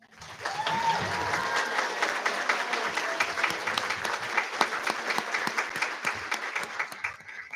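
Audience applause for social studies graduates at a summer Master's in Curriculum and Instruction commencement, sustained clapping from a large room that starts abruptly and stays full and steady, with sharp individual claps standing out.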